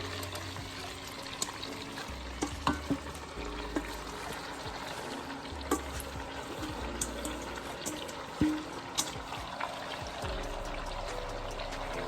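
Chopped yellow, green and red bell peppers, onion, spring onion and cabbage tumble into a pot as a soft continuous rustling pour with scattered light ticks and clunks, close and fairly quiet, with no talking.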